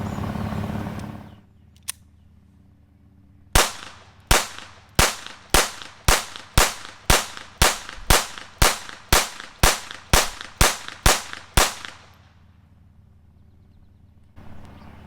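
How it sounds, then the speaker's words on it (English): A Taurus TX22 pistol fires 16 rounds of Federal ammunition in a steady, evenly spaced string of sharp, loud cracks, with a faint click before the shots and quiet afterward. "load it up and try to fire out these 16 rounds"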